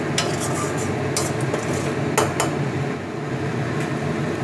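A spoon stirs salt through egg kosa in a pan, with scattered clinks and scrapes against the metal over a steady low sizzle, close and fairly loud.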